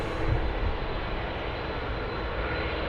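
Airplane coming in to land at Sydney Airport, a steady broadband engine roar heard from a distance and holding level throughout.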